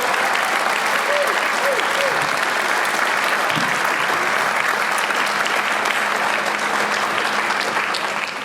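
A gala audience gives a sustained, dense round of applause that stays steady and loud throughout, with a faint voice briefly audible early on.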